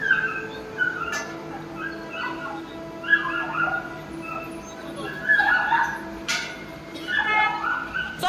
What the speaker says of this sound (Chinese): 小狗跑不了了。